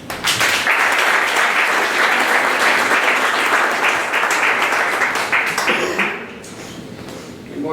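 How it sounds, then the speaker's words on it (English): Loud, dense applause from an audience at a morning startup pitch gathering, a continuous wash of many hands clapping for about six seconds before dropping away abruptly. "please give a warm round of applause for Brandon"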